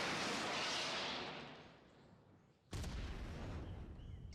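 Explosions from a projectile weapon in the video game StrikeNet: a loud fading roar, then a sudden sharp blast followed by a rumbling tail, close and without talking.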